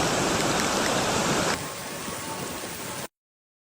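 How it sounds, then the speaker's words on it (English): Floodwater rushing down a sidewalk after a storm in Alberta makes a steady, loud broadband wash. It drops to a lower, thinner level about halfway through, then cuts off abruptly. "Look at the sidewalk. It's literally like a river."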